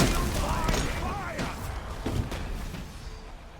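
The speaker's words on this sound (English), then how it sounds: "you see how the howitzer does really good suppressive fire" Vulcan's howitzer in Smite firing suppressive shots, a series of thudding booms and impacts over busy game noise, loud at first and gradually fading.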